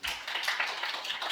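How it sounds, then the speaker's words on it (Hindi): A class of students applauds a classmate, a short burst of steady, fairly loud clapping from many hands in a room, with no talk over it. "ताली बजा दो इनके लिए भी"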